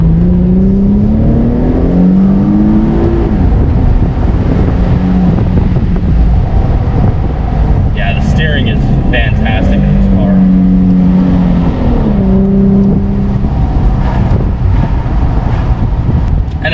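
A 2015 Infiniti Q60 IPL convertible's engine revs and accelerates down a straightaway over steady wind rush, with someone talking throughout and a brief high whine partway through.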